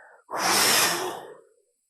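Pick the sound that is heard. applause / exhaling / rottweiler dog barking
exhaling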